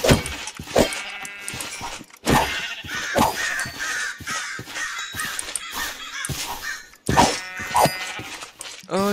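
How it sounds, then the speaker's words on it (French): Sheep bleating in the video game Roguelike Adventure and Dungeons, several loud bleats and cries arriving in irregular bursts, some overlapping, close and prominent. "Ah oui, il y en a des moutons."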